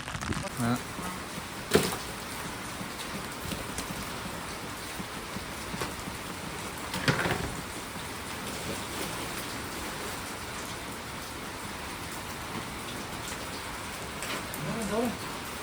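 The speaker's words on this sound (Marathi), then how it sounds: "अजून झाडा काढता आपली आणि पाऊस पण जाम आहे" Heavy rain pouring outdoors during a fishing trip, a constant dense hiss of drops on surfaces with occasional sharper spatters and knocks, while someone talks intermittently.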